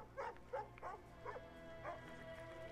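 Dog barking in the video game Assassin's Creed: Origins, a series of about five separate barks spaced roughly half a second apart, moderately close over a soft in-game ambient bed.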